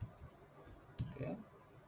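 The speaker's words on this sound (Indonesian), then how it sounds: "selanjutnya kita klik di sini di tanda titik 3" Computer mouse clicks while working in Mendeley reference manager, a couple of short quiet clicks near the middle, with faint talk around them.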